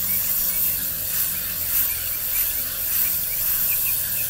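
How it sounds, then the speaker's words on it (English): Dollar-store plastic spray bottle misting potting soil, a steady airy hiss of fine spray running continuously at close range with no talk. "Just mist it. You know, to moisten that soil."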